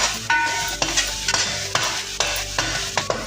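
Chili powder and salt are stirred into a sizzling Andhra-style fish curry: a spoon scrapes the pan in repeated strokes about every half second over a steady frying hiss.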